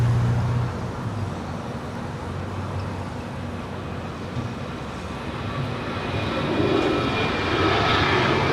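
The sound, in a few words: United Airlines airplane at LAX airport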